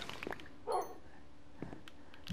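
A dog in Minecraft lets out a single short bark followed by faint whimpers and yips, sparse and fairly quiet, with low game ambience around it and no voices.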